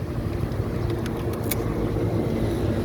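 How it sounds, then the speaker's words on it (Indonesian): Cars queuing at the entrance of the Padang-Sicincin toll road: a steady, close rumble of idling and slowly moving vehicles with faint metallic clinks, and no voices. "Nah, ini sudah antri mobil di sini"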